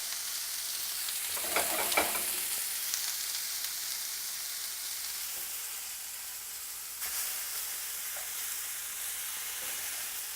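Bison burger patties searing in hot olive oil over medium-high heat give a steady sizzling fry throughout, with a louder burst of crackle near the start as they hit the pan and a brief stir partway through.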